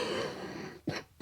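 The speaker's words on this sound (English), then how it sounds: "That's that shitty cough I was talking about." A man clears his throat with a short rough cough, two quick bursts close to the mic after a brief hum.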